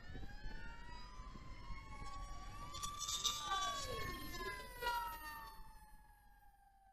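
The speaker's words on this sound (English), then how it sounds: "let's let the fire truck go by" A fire truck's siren sweeps up and down as the vehicle passes, swelling loud in the middle and fading away, over steady traffic rumble.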